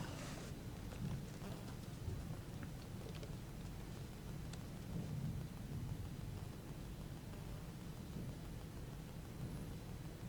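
Rain falls steadily on a waterlogged road in Roorkee, Uttarakhand, a dense, even hiss with low rumbling that continues unbroken throughout, heard alone without voices.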